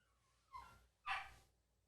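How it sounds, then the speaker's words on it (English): Dogs at a home bark twice from a distance, each short bark standing alone over quiet background. "Our dogs are barking. Can you hear them?"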